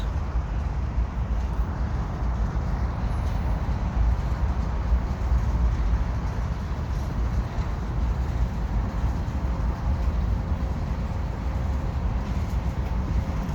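A CN freight train led by an ES44AC locomotive rolls past in a steady, continuous low rumble with rail noise, heard at moderate distance without a break for over ten seconds.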